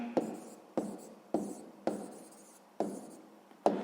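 A pen writes out the answer to a sixth-grade math exercise on paper, giving about seven short scratchy strokes in a steady rhythm, close and fairly quiet, with no talking.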